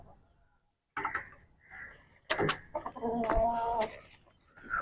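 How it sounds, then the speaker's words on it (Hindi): A chicken clucking and squawking close by in several short, throaty bursts, with some background noise around it. "अब ये मुर्गा खोलो।"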